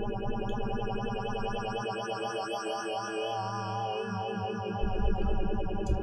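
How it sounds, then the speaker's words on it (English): A sustained, shimmering synthesizer tone with wavering pitch, washed in echoing delay and spacious reverb; a deep bass layer enters near the end. "Everything is more beautiful with a delay and a reverb."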